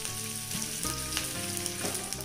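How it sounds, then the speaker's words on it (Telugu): A tempering of mustard seeds, cumin, garlic, dry red chillies and curry leaves frying in a pan: a close, steady sizzle with small popping crackles and occasional stirring, and no speech. "కొద్దిగా కరివేపాకును కూడా వేసుకొని ఈ తాలింపుని చక్కగా ఫ్రై చేసుకోవాలి."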